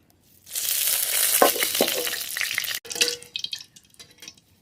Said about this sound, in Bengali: কড়াইতে সর্ষের তেল